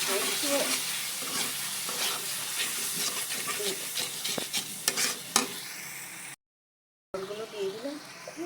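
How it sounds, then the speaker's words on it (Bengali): Ground spices fry in hot oil for a katla fish curry with coconut milk and pointed gourd, a steady sizzle and hiss with scraping stirs, interrupted by a brief silent gap before the frying resumes. "এবারে দু তেল উঠে গেছে গুঁড়া মশলাগুলো দিয়ে দিয়েছে ভালো করে"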